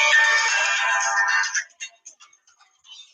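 A phone ringtone plays loudly for about a second and a half, then cuts off, followed by a few brief quiet sounds and near silence.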